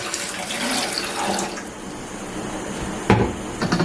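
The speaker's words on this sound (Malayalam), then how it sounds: "ഞാൻ കുറച്ച് പഞ്ചസാര ഇതിൻ്റെ ഇട്ടിട്ടുണ്ട് കുറച്ച് വെള്ളവും കൂടെ ഒഴിച്ചിട്ട് നമുക്ക് മിക്സ് പാനിയായിട്ട് എടുക്കാം" Water is poured over sugar in a pan to make syrup, giving a short splashing pour followed by quieter trickling and a sharp clink of a utensil near the end.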